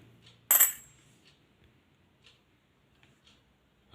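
Commemorative coins, including 2-rupee Hyderabad Mint biodiversity issues, drop with one sharp, bright metallic clink near the start, followed by faint scattered ticks in a quiet room.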